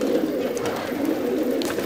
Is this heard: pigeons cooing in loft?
yes